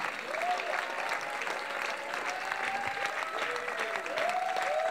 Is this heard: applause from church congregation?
yes